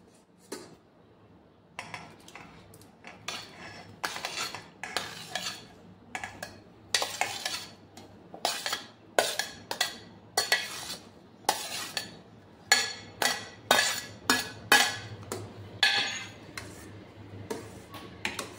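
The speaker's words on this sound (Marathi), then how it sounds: "छान प्रकारे मिक्स करून घेऊया।" A spoon repeatedly clinks and scrapes against a bowl while mixing chopped grapes, banana, chikoo and apple into vanilla custard, a steady rhythmic series of close taps.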